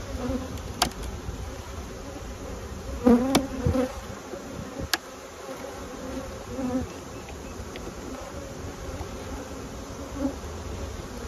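Honeybees buzz steadily in an opened hive during an upper-super inspection, a low continuous drone with a few louder passes of individual bees close by.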